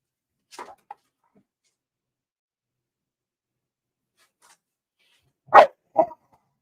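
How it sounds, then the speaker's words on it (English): A dog barks briefly in the distance, then falls quiet; after a long silence a louder pair of barks comes much nearer, each short and clipped. "dogs are barking over here"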